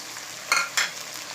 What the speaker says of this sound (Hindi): ओजरी को हम अच्छे से भून लेंगे और अब हम इसमें सब्ज़ मिर्चें ऐड करेंगे